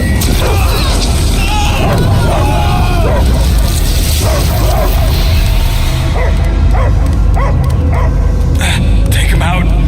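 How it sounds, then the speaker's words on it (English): A dog barks and yips in the Guardians of the Galaxy video game, with repeated loud barks and whimpers set against a booming game soundtrack and voices talking over it. "I hear only barking"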